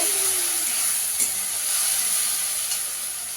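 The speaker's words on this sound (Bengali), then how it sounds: "এবার আদা, রসুন, টমেটো, কাঁচা লঙ্কা বাটাটা দিয়ে দেবো। দিয়ে ভালো করে কষিয়ে নেব।" Onion frying in a pan with ginger, garlic, tomato and green chilli paste, a continuous close sizzle with a few stirring clinks.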